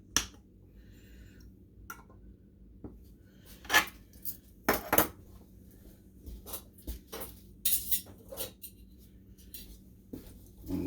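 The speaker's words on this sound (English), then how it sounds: "We are going to put the lids on." Metal lids clink onto filled glass canning jars of chili one by one, producing sharp, scattered taps and light rattles at close range in a quiet kitchen.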